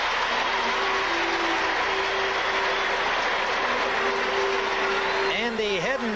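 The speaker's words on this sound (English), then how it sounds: "Crowd loves it." A football stadium crowd at a 1986 Giants vs. Vikings game roars in a dense, continuous wash of cheering, with a commentator talking over it near the end.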